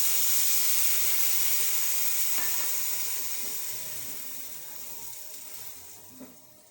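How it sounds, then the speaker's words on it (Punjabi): Milk hits hot roasted gram flour in a pan, setting off a loud, steady sizzle and hiss of steam that slowly fades as the mixture settles. "ਇੱਕ ਕੱਪ ਆਪਾਂ ਦੁੱਧ ਦਾ ਪਾ ਦਾਂਗੇ"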